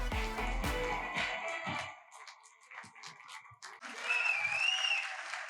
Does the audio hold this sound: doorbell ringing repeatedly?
no